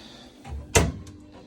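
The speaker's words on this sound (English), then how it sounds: "actually have pull-out drawers" A pull-out drawer on a kitchen cabinet built in 1968 opens with a short sliding rumble and then a sharp wooden knock near the middle, followed by faint small clicks in a quiet room.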